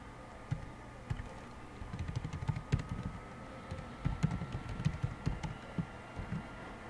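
A computer keyboard being typed on, irregular runs of soft key clicks with short pauses, close and fairly quiet, no speech over it.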